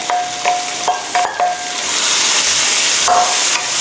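Shallots and minced beef stir-fried in a pan, a steady sizzle with several sharp scraping clicks of a utensil against the pan, close and fairly loud, no voices.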